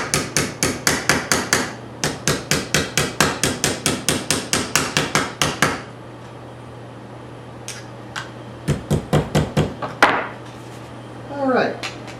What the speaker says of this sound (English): You can hear the hammer as it's bottoming out on the fret.